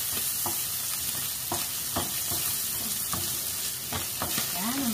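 Ampalaya, bitter gourd, being stir-fried in a pan without oil, with a steady dry sizzle and regular scraping stirs of a spatula, close and even throughout, no talk.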